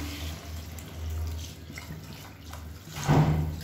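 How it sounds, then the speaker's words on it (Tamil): About a litre of pre-heated hot water poured into a cooking pot in a home kitchen, a soft steady liquid rush with a louder splashing surge near the end, heard alone. "நான் 1 லிட்டர் அளவுக்கு தண்ணி வந்து சூடு பண்ணி வச்சுருக்கேன், அதை சேர்த்துக்கலாம்"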